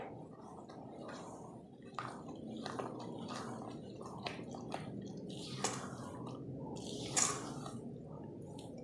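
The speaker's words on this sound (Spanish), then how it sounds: "Sacamos todo lo que está en las paredes del bol y comenzamos a revolver así, con energía" A carob and pineapple pudding batter with orange zest, raisins and cloves is stirred hard in a bowl. Wet squishing and dripping come in short, uneven strokes over several seconds, close and fairly quiet.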